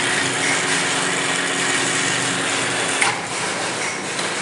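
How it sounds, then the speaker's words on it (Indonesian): Espresso machine being flushed, giving a steady hiss and hum of water and pump that holds through the whole stretch with no talk. "Kita flash dulu nih mesin espressonya."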